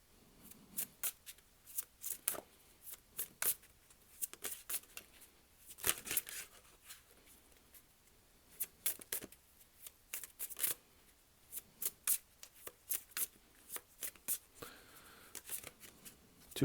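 A tarot deck is shuffled by hand: repeated soft riffling flutters and card snaps in irregular bursts, close and quiet, continuing steadily throughout.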